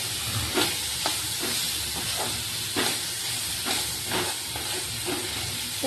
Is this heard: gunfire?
no